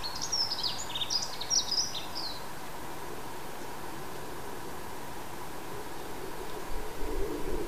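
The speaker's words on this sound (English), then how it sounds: "The bright and cheery song of the dunnock fills our ears" A dunnock sings a quick, bright warbling phrase in a garden, small but fairly loud, over a steady background hiss, then falls silent.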